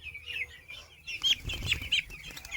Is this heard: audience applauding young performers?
no